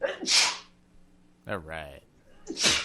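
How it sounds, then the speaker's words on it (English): A person sneezes loudly and close up, twice, with a short spoken remark between the two sneezes. "Hang on, I got to sneeze."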